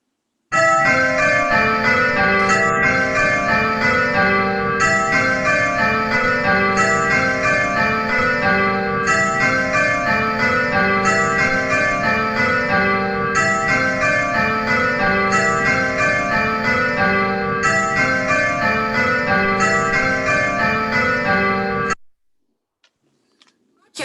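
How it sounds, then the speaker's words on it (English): A set of church bells rings in repeated sequence, each bell striking in a steady rhythmic pattern of change ringing, loud and continuous for over twenty seconds before stopping abruptly. "the bells aren't ringing in the right order anyway"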